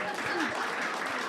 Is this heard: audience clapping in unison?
yes